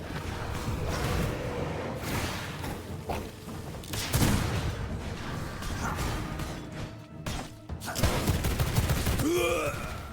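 Iron pistols fire in rapid, repeated volleys during a V Rising boss fight, a dense barrage of shots mixed with game impacts and effects running continuously for ten seconds.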